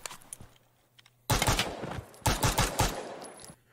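Pistol shots fired in the tactical shooter Ground Branch, a loud burst of several sharp, close reports in quick succession after a quiet lead-in, with no talking.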